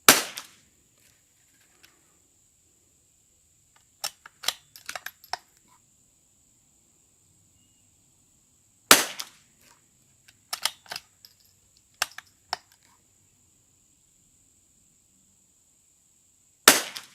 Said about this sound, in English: No cold bore shots, going right after the targets.